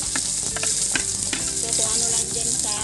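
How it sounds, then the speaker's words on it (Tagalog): Ginger, garlic and onion sautéing in a small amount of oil, a steady loud sizzle with clinks of a utensil stirring in the pan, no talking. "Gigisa tayo ng mga spices natin na luya, bawang at sibuyas."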